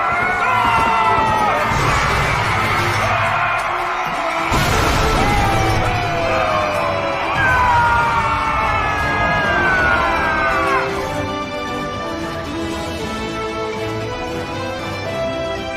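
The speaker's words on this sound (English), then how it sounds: "The shouts came from this side here!" Crowd of soldiers shouting in an anime battle scene, a loud dense roar of many voices with rising and falling yells and a crash near the middle, fading slightly toward the end.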